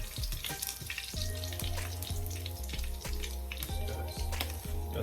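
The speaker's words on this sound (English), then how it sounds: "So you want to fry your chicken breast" Chicken breasts sizzle and crackle steadily in a hot frying pan, with occasional clinks of a utensil against the pan.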